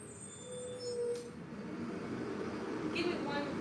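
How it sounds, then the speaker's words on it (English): A large truck idles and sprays right outside a house, a steady low rumble with hissing and brief air-brake-like bursts, fairly close and continuous throughout. "I hope y'all can hear me over this truck, because now it's spraying stuff."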